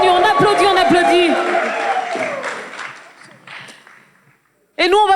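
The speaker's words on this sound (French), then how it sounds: "Allez, on applaudit très très fort" Applause from an audience at an outdoor summer concert, heard under a presenter's loud voice; talk dominates the opening and fades out, then a voice cuts back in sharply after a brief pause.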